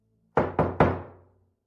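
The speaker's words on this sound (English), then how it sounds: "there was a loud knock" Three loud, close knocks on an apartment door in quick succession, each sharp strike ringing briefly, with quiet room tone before and after.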